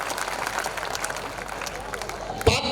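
An audience claps together at a Hindi poetry recitation at the Mahamurkh Mela comedy festival. A steady wash of applause fills the room, and a sharper burst comes near the end.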